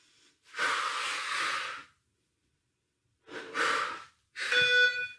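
Heavy, forceful breaths during a strength and core workout: a long exhale, a pause, then two shorter bursts of breathing, close and loud, with no talking.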